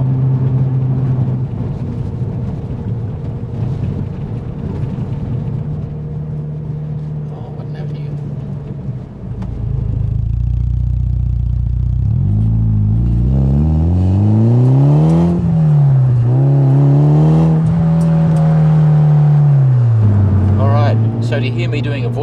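Mitsubishi Evo VI Tommi Mäkinen Edition (1999) accelerating hard out of a hairpin on a damp road, engine note rising and falling through the gears, loud and close, with a voice talking over it.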